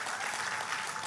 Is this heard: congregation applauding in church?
yes